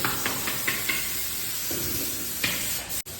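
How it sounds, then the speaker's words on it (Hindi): Chicken frying for samosas at a large iftar party, a constant hiss and sizzle of hot oil with soft stirring scrapes breaking through every half second or so, fairly close. "ये देखिए यहाँ पे चिकन को कैसे फ्राई किया जा रहा है समोसे के लिए"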